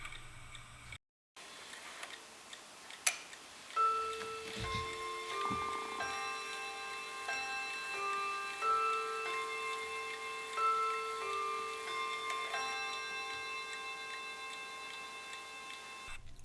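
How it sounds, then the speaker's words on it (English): A battery-powered grandfather clock with a miniature pendulum chimes a sustained melody of ringing tones after a few ticks, notes overlapping and lingering, fairly quiet and alone. "And now here's the chime."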